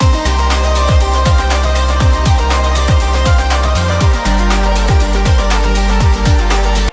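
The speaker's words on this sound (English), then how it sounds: "this sound is actually a part of the vocal that's been spliced and transposed" Spliced and transposed vocal chop arranged into a melody, sitting softly inside a full, loud electronic mix over steady pulsing kicks and bass, with no talking.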